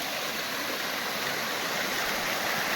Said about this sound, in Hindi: कितना कलकल करती हुई झरना हम लोग देख पा रहे हैं